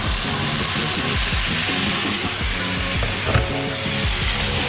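Salmon sizzling loudly in a pan as a splash of boiled water is added, a dense continuous crackle and hiss with faint stirring, close and without talk.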